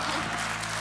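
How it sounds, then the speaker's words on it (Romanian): Studio audience applauding on a television show, a dense, continuous wash of clapping that holds steady for the whole moment, with some faint voices mixed in. "Aplauze pentru George"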